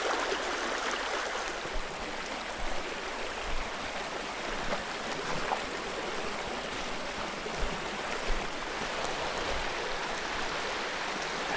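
A backyard brook flows through woods past a cottage with a steady, moderately close babble and gurgle, plus a few small splashy accents, and no one talks.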